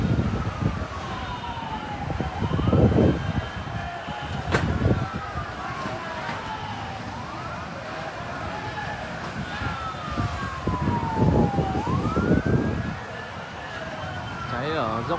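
Fire engine sirens wail with rising and falling sweeps at a large market fire at Ninh Hiep market, Vietnam, repeating steadily over crowd noise and nearby voices talking.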